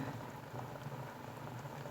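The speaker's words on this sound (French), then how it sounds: "Voici les carottes coupées en rondelles dans l'eau bouillante." Carrot slices boiling in a pot of water, a faint continuous bubbling and sputtering texture like light rain, steady and close with no voices.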